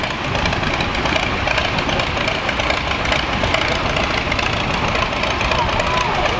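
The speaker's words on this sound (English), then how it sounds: "Our next tractor is owned by Joe Miller of Kingsville. It is an AC Model A from 1937." A 1937 Allis-Chalmers Model A tractor engine idles at a steady, continuous rumble outdoors at a threshing show, with crowd murmur and voices blended into the dense background.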